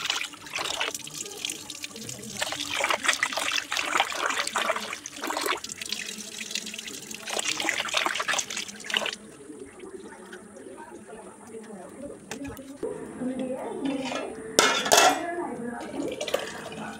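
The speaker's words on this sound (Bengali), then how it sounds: "এবার চালটা ধুয়ে নেব" Rice being rinsed under a running tap in a kitchen sink, with steady splashing water and dish clatter for the first half, then quieter scattered drips and light clinks.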